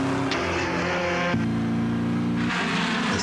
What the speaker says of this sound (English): The sound of a car completes the experience.